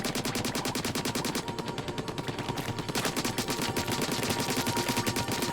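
Weapon fire in the video game Splatoon 2: a loud, rapid stream of automatic shots in a steady rhythm that eases briefly midway, then resumes, with no talking.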